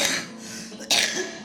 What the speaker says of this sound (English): Is that a smoker's cough?